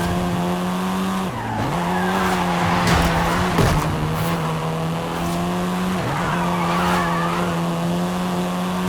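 A 7th-generation Volkswagen Golf R driven in the video game Forza Horizon, its engine droning steadily and loud, pitch dipping on gear changes, with tires squealing and skidding through corners, no talk.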